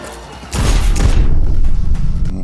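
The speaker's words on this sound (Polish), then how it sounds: "Jeden strzał, jeden trup." A gunshot in Cyberpunk 2077 lands as a loud, sudden burst followed by a booming, reverberant roar that lingers and tails off over a couple of seconds, with no talk over it.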